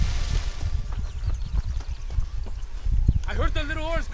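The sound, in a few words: horse hooves clip-clopping in a video game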